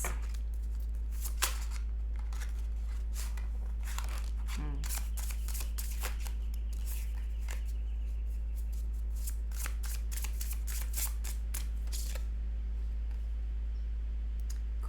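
Oracle cards being shuffled in repeated soft riffling bursts and slaps, close up and fairly quiet over a steady background hum.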